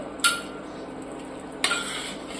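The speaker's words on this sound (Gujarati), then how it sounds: "હવે આપણે આને મિક્સ કરી લઈશું" Curry for rajma being stirred in a pan after adding roasted cumin and pepper powder, with two sharp metallic clinks of a spoon against the pan over a quiet, steady background.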